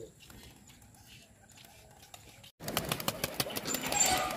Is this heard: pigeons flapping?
yes